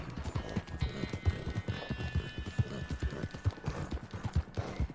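Horse hooves pound in a steady galloping rhythm in Red Dead Redemption 2, close and continuous over a faint ambient drone, with no talking.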